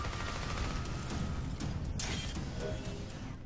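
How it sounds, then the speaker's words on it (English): A Gatling gun fires in the Green Lantern: Rise of the Manhunters video game, a dense, unbroken rattle of rapid shots that stays loud and steady across the whole stretch, with no voices over it. "Gatling gun!"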